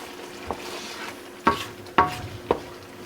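Broth cooking with Israeli couscous in a pan, a low steady sizzle broken by a few sharp stirring scrapes and clinks, close up with no talking.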